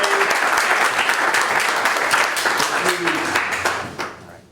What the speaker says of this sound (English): let's give a round of applause to Paul.